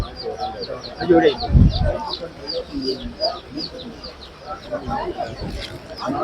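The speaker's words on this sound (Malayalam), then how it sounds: "ഇതാ അതിൻ്റെ ഇടയിൽ ചെറിയ കോഴിക്കുഞ്ഞുങ്ങൾ പത്ത് രൂപയുടെ കോഴിക്കുഞ്ഞുങ്ങൾ" Small ten-rupee chicks chirp in steady, high, overlapping peeps at a market stall in the Peruvallur market, heard close under ongoing conversation and crowd noise.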